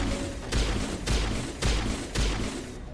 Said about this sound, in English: Thankfully, 2 shots does take them down now. This pistol is quite powered up.